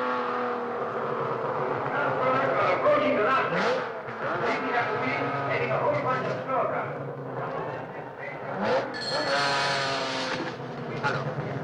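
A race car in an Italian road race roars past the finish line, its engine revving loud and close, with shouting voices and other noise mixed over the passing engine.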